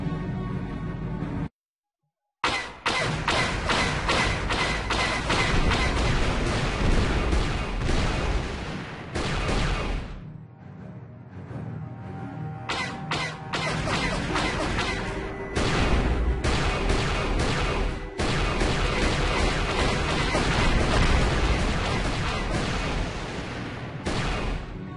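Star Wars: Knights of the Old Republic gun turret battle against Sith fighters, a dense, loud barrage of rapid laser blasts and booming impacts layered over game music, with a brief silent gap near the start.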